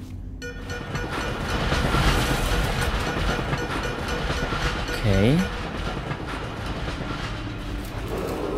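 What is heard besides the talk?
commuter train (S-Bahn) passing in the video game Dishonored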